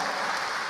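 Church congregation applauding in a brief, dense burst of clapping, faint and distant, with no voices over it.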